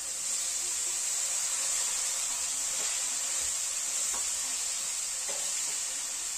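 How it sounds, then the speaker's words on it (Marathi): Chopped bhuiphod mushroom pieces fry in oil with turmeric and chilli, a loud, even sizzle running unbroken throughout, with a few faint taps of a utensil. "त्याच्यानंतर पीस केलेलं भुईफोड त्यात फ्राय करून घ्यायचं."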